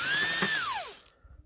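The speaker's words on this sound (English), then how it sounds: "I'm going to drill down through the hole." A power drill bores a hole into wood while making a bumblebee nest, a loud steady whine that winds down in pitch as the bit slows and stops, followed by quiet.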